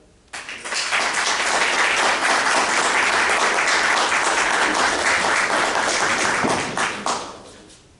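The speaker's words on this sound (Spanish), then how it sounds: "un fuerte aplauso para él" An audience at a book presentation breaks into strong, sustained applause that swells quickly, holds loud and even for about six seconds, then fades out.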